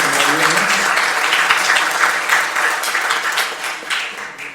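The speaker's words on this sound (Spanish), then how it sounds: "Un aplauso, por favor." Applause rises from an audience at the end of a public policy training session in Spanish, dense, loud clapping that fills the room and then gradually thins out.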